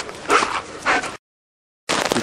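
A neighbour's dog barks and whimpers close by in short excited bursts on a farm, with a quiet gap before a final yip.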